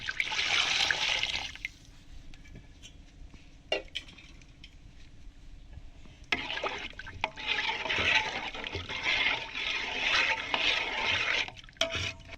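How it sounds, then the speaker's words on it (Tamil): Water poured into a pot for South Indian fish curry (meen kuzhambu), a rushing, splashing stream that stops briefly and resumes with bubbling, trickling pours, close and fairly loud with no talk. "தேவையான அளவு தண்ணி ஊற்றிக்கலாம் குழம்புக்கு."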